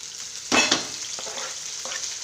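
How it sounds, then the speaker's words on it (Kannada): Tomatoes dropped into a hot tempering pan for a chutney, a loud sizzling burst that settles into a steady frying hiss with faint stirring scrapes. "ಟೊಮೊಟೊ ಹಾಕಿದ್ದಾರೆ. ಇದನ್ನು ಚೆನ್ನಾಗಿ ಹುರ್ಕೋಬೇಕು."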